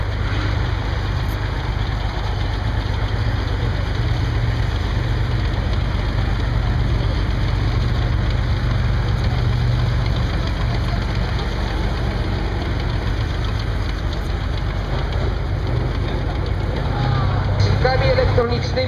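A Rosomak armored personnel carrier's engine idles at an open-day event at a military barracks in Poznań, a steady, heavy, low rumble throughout with someone talking over it.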